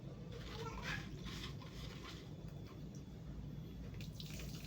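Water pours and splashes steadily onto the ground, a soft continuous rush with low background rumble.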